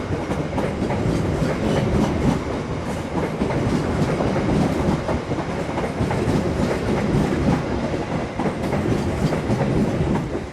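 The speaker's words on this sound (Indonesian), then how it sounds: "Sebentar, masih ada kereta" A train rolls past nearby, a steady rumble with rhythmic clickety-clack of wheels on rails for the whole stretch, no voices.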